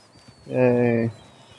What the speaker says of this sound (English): Hey buddy. Good horse.